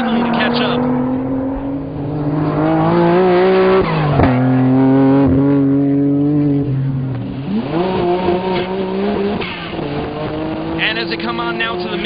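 Nissan GT-R R35 race car in a racing video game, engine droning and rising through gear changes with a brief tire squeal as it runs the final turns, loud and steady under race commentary.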